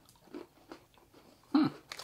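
Crunchy bites into a chocolate-covered cookie candy from a Japanese snack box, a few close, dry chewing crunches with one louder bite near the end, no talking.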